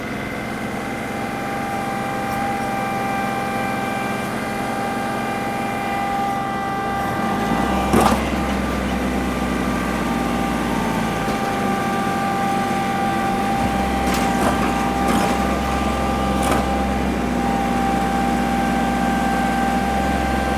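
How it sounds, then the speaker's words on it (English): A tractor engine runs steadily during digging work, giving a continuous droning hum with a low rumble that shifts in pitch a few times and occasional clanks, with no voices. "I'm gonna drive this tractor up a little bit."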